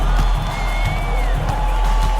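A home crowd cheers in NBA 2K25 during a Rockets at Lakers game, a steady, loud roar with whistles rising over it.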